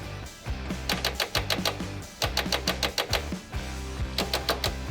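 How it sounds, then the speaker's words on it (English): Rapid bursts of sharp clicking from the solenoids of a Warn Xeon 12-s winch on a Jeep, chattering in repeated clusters over a low electrical hum, close and fairly loud with no talking. "we're getting some clicking in the solenoids"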